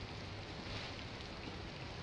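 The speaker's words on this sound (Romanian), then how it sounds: "Adică plouă să o folosim." Steady, even rain hiss in the survival game Solitude, a dense continuous wash of falling water with no voices over it.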